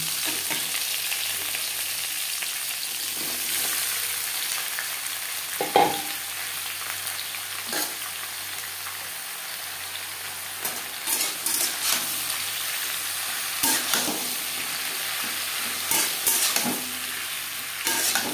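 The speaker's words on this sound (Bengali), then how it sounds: "কুমড়োর সাথে শিম বেশ ভালো করে মিক্স করে দেবো।" Pumpkin and flat beans stir-fried in a pan with dried chilli and five-spice, a steady close sizzle broken by repeated scraping stirs of a spatula, with no talking.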